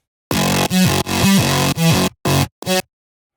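A synth plays a short rhythmic pattern of staccato notes with a hollow, buzzy tone, ending in two quick clipped stabs.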